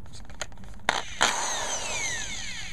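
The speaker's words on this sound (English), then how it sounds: "make certain that the drill is in the reverse" A cordless drill set in reverse whirs briefly after a few clicks while installing a large metal hook into wood, its motor spinning up then winding down, close and moderately loud.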